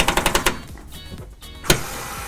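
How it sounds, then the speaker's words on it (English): Screws being backed out of an appliance unit with a screwdriver during repair: a quick run of sharp ratcheting clicks at the start, then quieter handling and one more sharp click, all close up with no talking. "we're going to need a screwdriver to take the screws out"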